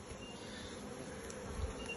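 Honeybees buzz steadily and continuously from an opened beehive as a beekeeper splits the colony, a dense close-up drone with no voices.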